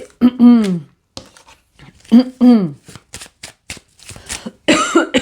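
Someone nearby gives two short, voiced coughs to clear the throat, spaced about two seconds apart, followed by light clicks and rustling.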